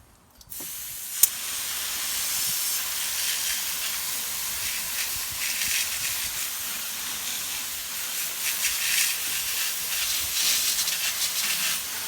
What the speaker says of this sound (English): the engine's ready to get sprayed down, the hose down.